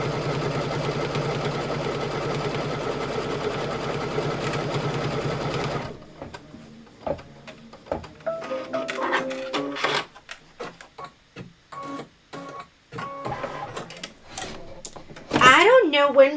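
A sewing machine stitches a quarter-inch seam allowance on a patriotic quilted pillow, running in a steady continuous whir for about six seconds before stopping, followed by scattered handling clicks and rustles.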